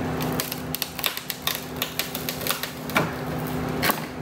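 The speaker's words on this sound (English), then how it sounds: "Here's a piece of that plastic, watch. It just crumbles." Brittle old plastic from a vehicle wing piece crumbling and snapping by hand, a quick series of sharp dry cracks and crackles in irregular bursts, close and moderately loud over a steady low hum.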